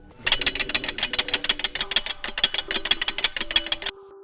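Loud, rapid metallic rattling from the competing windshield hinge, a rival to the Kentrol 4WD part, as it is shaken in a wiggle wobble test. The clatter is continuous, harsh and close, runs about four seconds, then stops abruptly.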